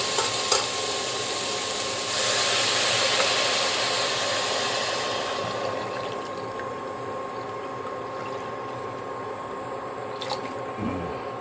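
Water pours steadily into a pot with a broad rushing hiss, then the flow settles into a quieter, even background noise.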